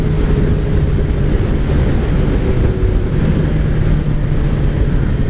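A 2003 Kawasaki ZR7S motorcycle cruising at about 70 mph on a cold ride, heard as a loud, steady engine drone buried under heavy wind rush, with no voices.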